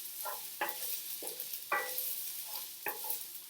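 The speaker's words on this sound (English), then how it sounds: "what we're going to do is just keep stirring these nice and gently" Vegetables for a veggie bolognese sizzle gently in a pan under a steady frying hiss, with a spoon scraping and stirring in regular strokes about every second, up close and with no talk.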